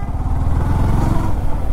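A four-stroke motorcycle running on synthetic engine oil throbs nearby with a low, pulsing rumble for a short burst.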